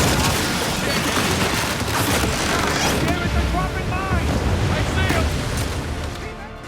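Boat chase across open water in an Uncharted or Tomb Raider video game: a steady, loud roar of wind and crashing waves with a churning engine underneath, continuous throughout and easing slightly at the end.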